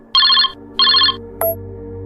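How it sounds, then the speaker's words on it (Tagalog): A cellphone rings with an incoming call, two loud electronic ring bursts close by, followed by a short beep as it is picked up. "ay tumawag na naman si Romel"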